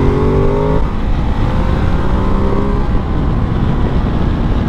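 Ducati Desert X motorcycle accelerating in enduro riding, a loud close engine roar with rising pitch at first, then a steady heavy drone from the engine and wind throughout.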